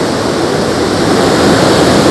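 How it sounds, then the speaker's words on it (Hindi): Sandhoa waterfall in Samahni valley, Azad Jammu and Kashmir, its water crashing onto rocks below in a loud, steady roar of broadband rushing that never lets up. "नीचे पानी गिर रहा है"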